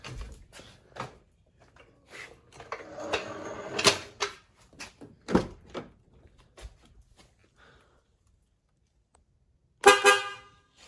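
Upgraded car horn on a Mazda NC Miata gives one loud, close double blast near the end, after a stretch of clicks, knocks and handling noises from the install.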